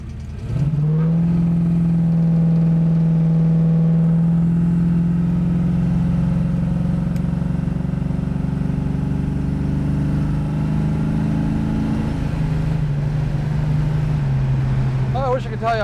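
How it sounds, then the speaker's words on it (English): A 1968 Dodge Super Bee with a 440 engine accelerating through a couple of gears: a loud, deep engine roar climbing in pitch, shifting and pulling steadily from inside the car. "Car has good acceleration. We're running through a couple gears here for you."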